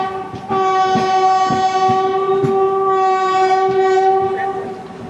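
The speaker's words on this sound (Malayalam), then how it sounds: "അതാണ് തിരുവനന്തപുരം നോർത്ത് യോഗനഗരി ഋഷികേശ് എക്സ്പ്രസ് 22659" Thiruvananthapuram North Yog Nagari Rishikesh Express 22659 passing: a loud, sustained train horn blares for several seconds, close by, over rhythmic clickety-clack of wheels on rail joints.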